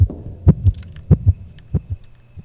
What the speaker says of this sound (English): Heartbeat means it's hunting.